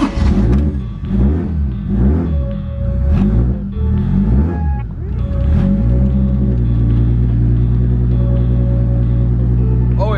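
A Nissan 240 hatchback drift car engine revs up and down in repeated loud, close pulls, then settles into a steady, sustained high drone.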